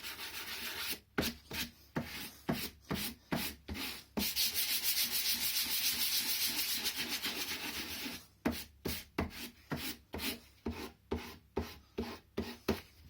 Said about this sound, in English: Quite a lot of sanding, really.